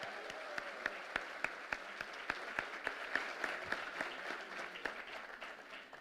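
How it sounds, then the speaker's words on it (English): Applause from the audience at a book launch event with a minister present, a steady round of clapping with distinct sharp individual claps standing out, fairly quiet and distant. "Can we please have a louder round of applause for both our guests?"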